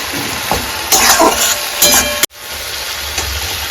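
Tomatoes with ginger and cumin frying in a pan for a cauliflower vegetarian dish, giving a steady close sizzle with stirring scrapes throughout and a brief cut partway through.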